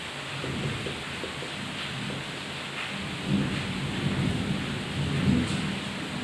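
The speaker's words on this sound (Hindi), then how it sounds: "यहाँ पे इस समय जोरों की बारिश हो रही है, पीट के बारिश हो रही है" Heavy rain pours steadily at night with rolling thunder rumbling underneath, the low booms swelling louder toward the end; no voices.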